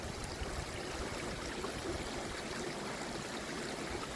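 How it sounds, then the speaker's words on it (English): Burn water from a Scottish hillside stream running into the intake of irrigation pipes, a continuous soft rushing and trickling wash, even and fairly quiet, with no voices. "this is the point where our water pipes collect the running burn water"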